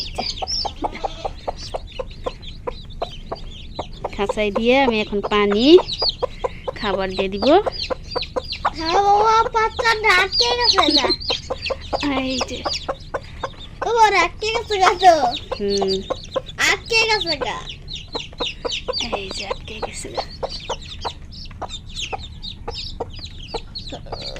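Several country chickens cluck and squawk close by in repeated bursts, with brief quieter gaps between the calls.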